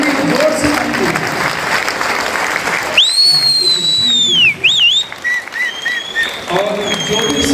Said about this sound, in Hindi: इनके सम्मान में बड़ी जोर से ताली बजाएं।